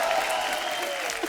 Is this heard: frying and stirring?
no